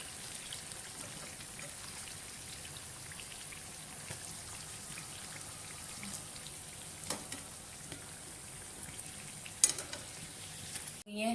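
Aloo kachori fry in ghee, giving off a soft, steady sizzle with faint pops and crackles. The sound runs quietly and evenly the whole way through.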